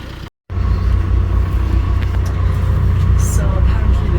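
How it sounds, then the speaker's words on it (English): Steady low engine rumble of a 4x4 car climbing a mountain road in the Cameron Highlands, Malaysia, continuous and close after a brief dropout at the start, with faint higher noises above. "We're going on a special 4x4 car because we're going up to the mountain."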